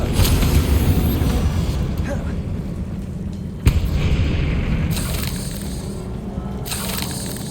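A Confringo spell explodes in Hogwarts Legacy, a dull boom with a sharp thud near the middle, over a rumbling game soundscape and speech.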